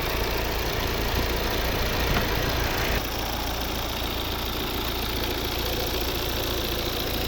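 A 2015 Volvo V70 2.0 D3 diesel engine idles steadily and close by, a continuous low rumble with a faint knocking texture and no voices.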